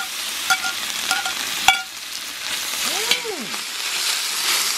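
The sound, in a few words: bacon frying in a discada cowboy wok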